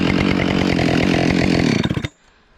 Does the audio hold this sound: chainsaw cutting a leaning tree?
yes